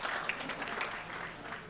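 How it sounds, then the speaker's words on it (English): Audience applause at a gala dinner and award ceremony, a steady wash of many hands clapping at moderate distance, sustained evenly without breaks and without voices over it. "Let's give a round of applause for such a wonderful presentation."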